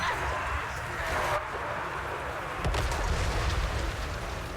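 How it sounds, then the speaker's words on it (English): Magma cannon fire during a Total War Warhammer 3 battle, a steady roar of booming artillery blasts with a louder burst near the end, heard under a talking voice. "my magma cannons are gonna kill my own guys"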